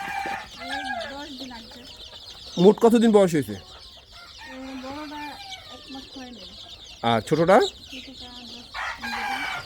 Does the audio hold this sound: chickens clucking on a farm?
yes